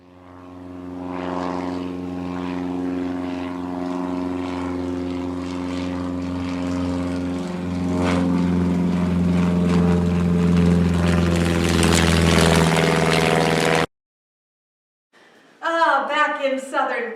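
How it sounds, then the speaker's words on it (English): A propeller airplane in flight, with a loud steady engine drone and strong tonal hum for about fourteen seconds before cutting off, followed by a brief snatch of someone speaking. "Gotta get back on that plane."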